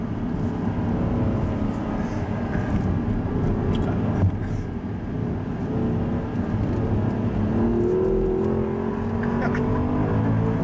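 An Audi R8 engine drones steadily and climbs in pitch as it pulls through the revs, heard from inside with some voices over it.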